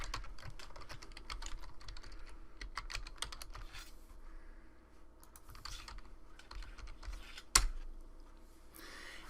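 A password goes into a computer keyboard as a run of quiet, quick key taps in uneven bursts, close but faint, ending with one sharper click.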